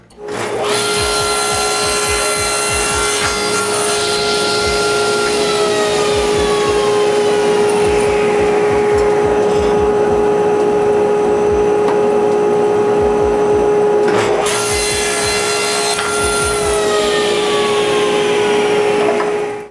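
A saw cuts small wooden triangles, its motor holding a loud, steady whine for nearly twenty seconds while repeated ticking cuts rattle underneath and a brief lull comes near the end.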